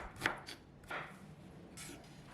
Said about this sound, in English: Cut 70 grams of ginger into long strips.